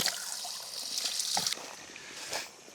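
Water trickling and splashing from the small fountain at the tiny Sant Roque hermitage in Espadilla, a steady close flow with a few brief louder splashes.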